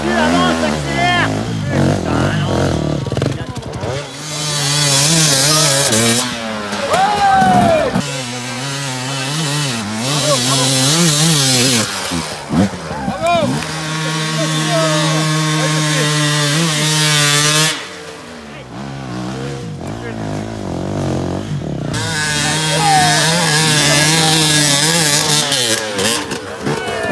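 An enduro motorcycle engine revving hard on a steep hard-climb lap of the Alestrem 2019 race, rising and falling in loud drawn-out wails with brief drops, while people shout encouragement over it.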